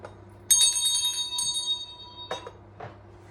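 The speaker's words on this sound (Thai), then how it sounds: "ตีกระดิ่งก่อนได้ไหม" A small hand bell rings in a kitchen setting, two clear struck tones with a long shimmering decay, then a couple of softer, shorter strikes follow, close and fairly loud against quiet background.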